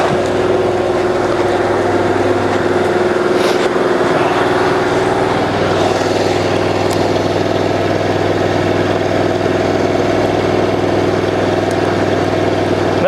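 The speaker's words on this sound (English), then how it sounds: "That machine can idle all day as long as you got fuel." The engine of a cold water jetter idles steadily, a constant droning hum with a fixed tonal note, close and uninterrupted with nothing else over it.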